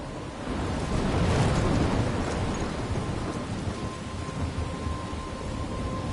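A thunderstorm in the video game Life is Strange, with a heavy rolling thunder rumble over dense, constant rain that stays loud throughout, without voices.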